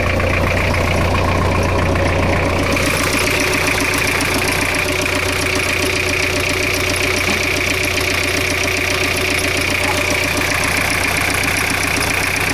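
A 1983 Ford Ranger's little four-cylinder Perkins diesel idles steadily and loudly up close, with a rhythmic clattering knock running throughout and no talking.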